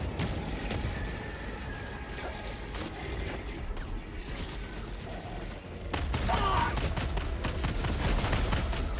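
Rapid automatic gunfire in the Helldivers 2 video game, dense continuous bursts that swell louder midway, with clattering mechanical weapon sounds layered throughout.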